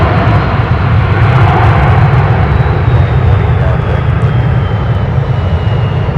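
A Delta Airbus A321 arrives at Minneapolis–Saint Paul airport in winter, a loud, close, sustained roar of jet engines filling the clip with steady low rumble and hiss.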